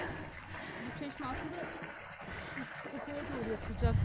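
Water runs continuously from a plain village fountain, a soft, steady splashing trickle heard close by with some faint background noise.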